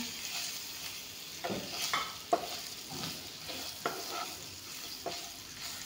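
Pointed gourd and bitter gourd fry in oil in a pan, a soft steady sizzle punctuated by regular spatula strokes roughly every second, fairly quiet and close, with no talking.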